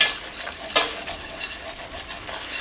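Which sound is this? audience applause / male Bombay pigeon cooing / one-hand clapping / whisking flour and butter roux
whisking flour and butter roux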